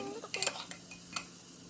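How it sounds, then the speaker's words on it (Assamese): Mutton being mixed with spices in a pot gives a few soft metallic clinks and scrapes of a spoon against the pan, quiet and close, spaced irregularly with no talk. "আৰু মছলাখিনিও ভালকৈ মিক্স কৰি লওঁ মাংসখিনিৰ লগত"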